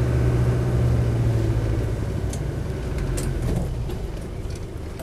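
A Land Rover 90 with a 200TDi diesel engine idles nearby in a steady, low rumbling drone with light mechanical clatter, fading slightly toward the end.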